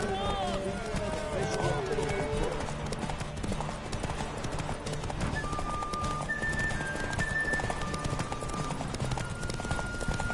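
Geralt's horse Roach gallops in The Witcher 3, steady rapid hoofbeats clip-clopping close by throughout, with voices talking over the running.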